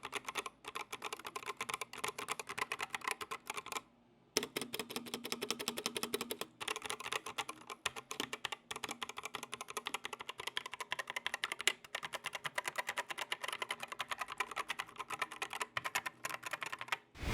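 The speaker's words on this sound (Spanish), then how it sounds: "Ahora vamos a escuchar lo que es el tipo de tecla mecánica OPX a diferencia de la Cherry, para que ustedes vean la sensación mecánica como se escucha" Typing on a Corsair K70 RGB TKL mechanical keyboard with OPX switches, quick irregular key clicks in steady bursts, close and clear, with one brief pause near the start.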